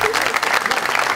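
A studio audience at a French urban-culture TV show claps in a brief, dense burst of applause close by.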